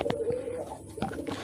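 Pigeons coo softly inside a pigeon house, low repeated throaty calls close by with faint rustling between them.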